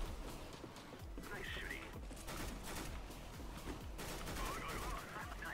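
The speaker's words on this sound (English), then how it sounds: "Who's shooting?" Rapid bursts of gunfire from a CS:GO match crackle faintly throughout, set low beneath near-constant talk from players.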